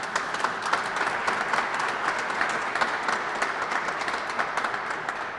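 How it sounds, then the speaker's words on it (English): Sustained applause from an audience honouring Kentucky companies at a Mountain Parkway expansion celebration, a steady dense wash of clapping with sharper individual claps standing out, lasting throughout at moderate loudness. "Let's give a big round of applause to all these Kentucky companies."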